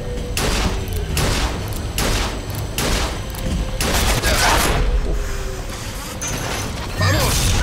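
Repeated bursts of gunfire from Bioshock Infinite Remastered on PS4, loud and close, with dense rapid shots, short pauses between volleys and some mechanical clatter.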